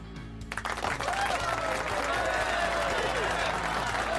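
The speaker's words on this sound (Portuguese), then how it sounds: "Uma salva de palmas a Tan Games" Applause from a crowd for the moderators of a live cryptocurrency stream starts suddenly and swells into steady, sustained clapping, with a voice faintly over it.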